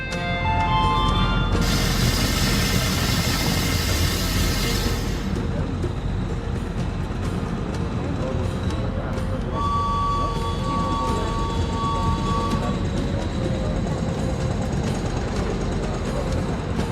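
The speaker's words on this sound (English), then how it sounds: "Now we can sit back and enjoy a relaxing train ride." The Orient Express train runs with a steady, loud broadband rumble and rattle. A bright hiss swells early on and faint tonal squeals come and go.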